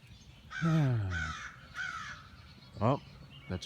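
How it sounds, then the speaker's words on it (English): A crow caws from outdoors on a nature walk, a long drawn caw followed by a couple of shorter calls, moderately near and standing alone against quiet background. "Oh, that's a crow I heard."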